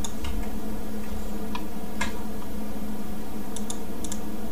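Scattered keystrokes on a computer keyboard as a configuration command is typed, sparse taps and small clusters of clicks over a steady background hum, no one speaking.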